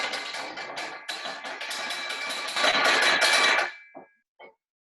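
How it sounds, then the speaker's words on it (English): Rapid clattering of a wooden spoon rattling around inside a metal saucepan, a busy bright racket that stops abruptly, followed by two light taps. "I'm going to do this with the wooden spoon inside the pan, so it's hitting against"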